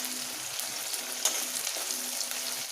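A few sliced small onions and four or five green chillies fry in a pan, giving a close, steady sizzle with light crackles throughout.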